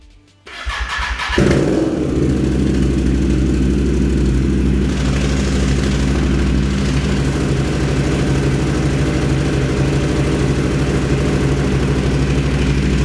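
An Italian motorcycle fitted with a makeshift loud exhaust cranks briefly, fires up with a burst, then settles into a loud, steady, throaty idle rumbling close by in a garage.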